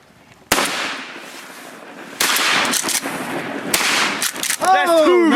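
Shotgun blasts from a rainy mallard duck hunt: three loud, sharp reports spaced over a few seconds against a steady hiss of rain, with duck-like quacking calls at the end.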